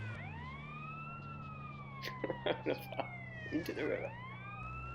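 A wailing ambulance siren in GTA San Andreas sweeps up and down over a steady engine drone, while someone speaks briefly over it midway through.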